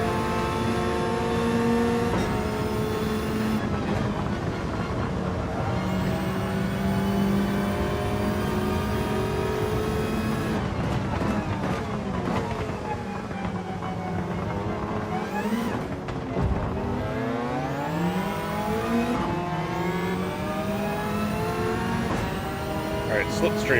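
A McLaren race car engine in Gran Turismo 7, droning and rising in pitch through gear changes with other cars' engines around it, continuous and loud while a player talks over it.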